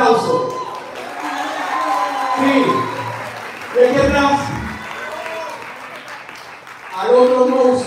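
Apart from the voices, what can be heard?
audience applause and cheering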